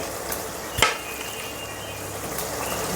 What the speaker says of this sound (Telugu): ఇందాక ఫ్రై చేసి పెట్టుకున్న బెండకాయ ముక్కలు ఉన్నాయి కదా ఇవి ఇందులో వేసేసుకోవాలి